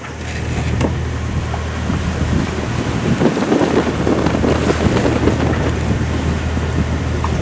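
Strong wind roars across the microphone aboard a sailboat in a heavy swell, with waves breaking against nearby rocks as a continuous loud rush of churning water, with no voices.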